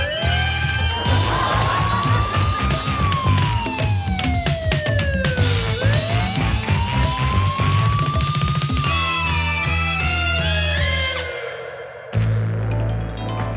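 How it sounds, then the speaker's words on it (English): A loud wailing siren sweeps slowly up and down in long glides over crowd noise and cheering, then cuts off abruptly near the end. "We were on with unofficial lights and sirens."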